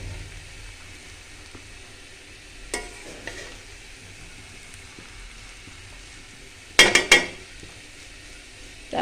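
Chillies fry quietly in a pan under a low hiss. A few spatula scrapes and a cluster of sharp metallic clinks from stirring stand out near the end, close by.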